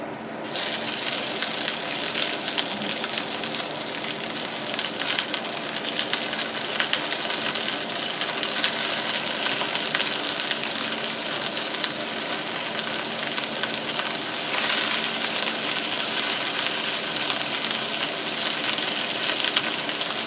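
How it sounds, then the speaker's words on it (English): Fajita vegetables sizzle in a hot cast iron skillet, a loud steady frying hiss that kicks in at the start and holds for the whole stretch, with a low hum beneath and no talking. "Now on this side we have a nice hot cast iron skillet, and I'm going to add my vegetables for my fajitas."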